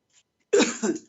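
A single short, throaty cough, close and fairly loud, with a faint breath just before it.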